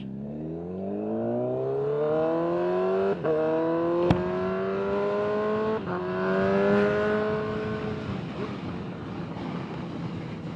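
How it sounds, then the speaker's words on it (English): A motorcycle engine drones steadily with rising and falling pitch as it speeds up to 30 to 50 mph and shifts gears, recorded with a helmet mic, loud and continuous with wind noise underneath. "Let me know what you guys think of the engine noise."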